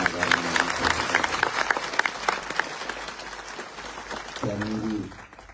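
A crowd at a political rally gives a burst of applause that rolls on under a speaker's amplified voice, then fades out as he continues.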